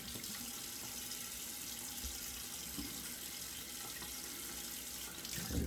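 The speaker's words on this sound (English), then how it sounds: "I'll stop running water here" A bathroom sink tap runs steadily with a constant close splash of water, unbroken for the whole stretch and slightly louder at the end.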